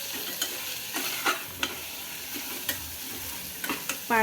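Gravy masala for a spicy white pea curry sizzles steadily in a pan, with a spoon scraping and knocking at irregular intervals as it is mixed close by.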